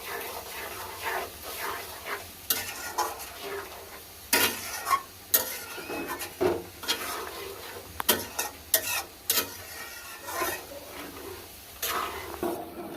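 Food frying in a pan on the stove, prepared for an iftar or sahur meal: a faint sizzle runs beneath repeated sharp scrapes and clacks of stirring against the pan, with no talk.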